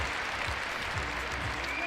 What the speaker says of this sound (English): Enjoys the applause of the crowd.